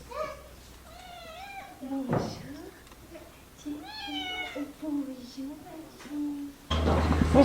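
A house cat meows repeatedly indoors in a newly bought home, a run of clear, drawn-out, rising and falling meows close to the microphone, with a soft voice briefly heard and a burst of rustling noise at the end.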